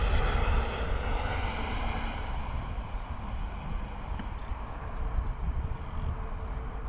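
An EasyJet Airbus A320neo lands at Bristol Airport with a steady, loud jet engine roar and broadband rumble that holds throughout, and no talking.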